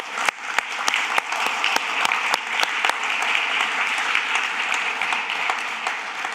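Audience at the 2023 OGP Global Summit applauding to welcome new members into the partnership, a sustained wash of hall clapping with a few sharp individual claps near the start, heard alone without talk.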